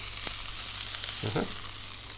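Steak searing in a hot frying pan, a steady broadband sizzle throughout with a brief louder hiss as the fatty edge is pressed down, close and continuous with no talking.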